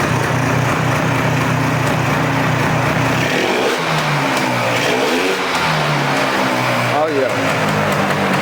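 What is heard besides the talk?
Polaris 400cc two-stroke ATV engine running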